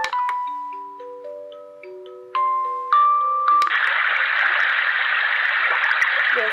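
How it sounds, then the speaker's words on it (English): A NURSAL white noise machine is switched through a few tones and beeps before settling into a steady hiss of running water, loud and continuous for the last few seconds. "Yes, that's the water, the running water."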